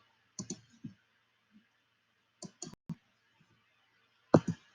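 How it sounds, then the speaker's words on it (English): Numbers tapped in on a computer keyboard during a math lesson, heard as a few short clusters of quiet plastic clicks spread apart, the last burst slightly louder, with no talking. "So we're going to go ahead and type those in."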